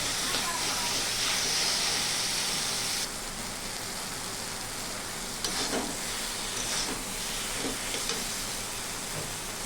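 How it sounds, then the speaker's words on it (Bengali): Taro leaves being stirred in a pan over a high flame, a steady hiss of sizzling with scraping stirs, a shift in tone midway, no talk. "আমি হাই ফ্লেমে আরও 2 মিনিট নেড়ে চেড়ে রান্না করে নেব।"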